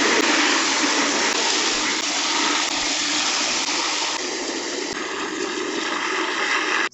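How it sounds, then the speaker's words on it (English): Water gushing steadily from a 3-gallon bucket into plant containers, a loud, continuous broadband rush with no pauses, close by and running the whole time. "And then I'm just going to add the water."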